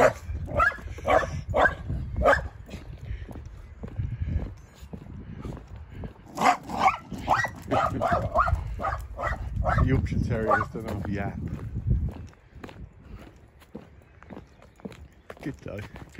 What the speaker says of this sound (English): come face to face with this little Yorkshire Terrier now